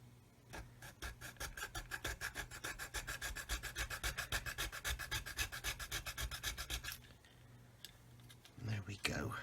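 A small hobby saw cuts through a plastic part of a 1/35 scale Hobby Boss Defender model kit, a fast, even rasping stroke repeated many times at close range, then stopping as a voice speaks quietly.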